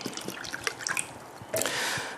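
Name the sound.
pouring a water sample from a bottle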